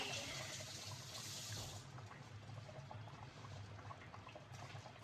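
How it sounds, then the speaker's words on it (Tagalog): Water churns and bubbles in a cooking pot as it comes to a boil in a home kitchen, a soft, continuous gurgling wash heard close and without talk. "Dito tayo magpakulo ng tubig."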